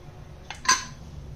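A pressure cooker holding goat leg soup is opened after cooking: a faint metallic clink and a short scrape of the lid, quiet and close, with no talking.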